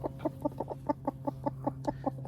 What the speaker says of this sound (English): a closer look at our broody hen